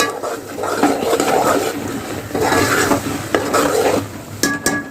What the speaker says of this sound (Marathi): नंतर हे कांद्याची पेस्ट केलेली घालत आहे त्यालाही चांगलं आपण फ्राय करून घेऊया